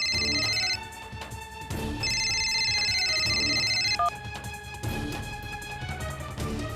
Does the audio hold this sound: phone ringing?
yes